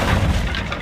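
Incendio, a fire spell cast in the Hogwarts Legacy video game, bursts out as a short, dense whoosh with a boom, loud and close, lasting under a second.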